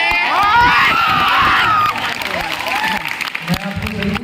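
Audience applause and cheering at a stand-up comedy show at a polytechnic freshers party, a loud, dense crowd roar with clapping and shouts that eases slightly partway through.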